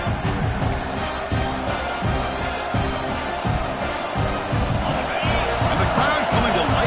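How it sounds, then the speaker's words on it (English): Football stadium crowd at Oregon at Washington roaring steadily as the home defense holds in the red zone, a dense sustained swell of cheering under a commentator's voice. "the crowd coming to life here, trying to help this defense down in the red zone"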